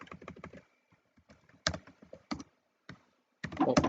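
Quick bursts of typing on a computer keyboard while C code is entered, clustered key clicks separated by short pauses, ending in a dense flurry of strokes, close and fairly quiet.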